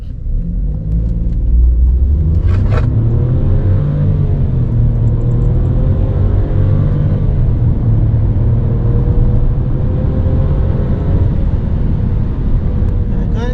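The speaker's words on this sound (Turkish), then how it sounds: "Kalkıyoruz" A Volkswagen T-Cross 1.0 running on LPG revs up from rest and climbs steadily in pitch as it speeds up, loud and close with a constant rumbling drone.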